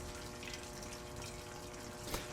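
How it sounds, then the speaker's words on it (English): Water flowing through a pipe in an SCP Foundation game's morgue area, a faint steady rushing wash with a brief splashy burst near the end. "There is water down here."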